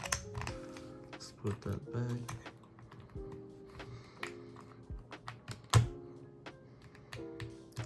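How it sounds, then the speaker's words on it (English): Clicky keystrokes on an Aula F75 mechanical keyboard with a slightly hollow sound come in irregular bursts, crisp and close, alongside a brief spoken comment. "it does sound like this keyboard is a little bit hollow though"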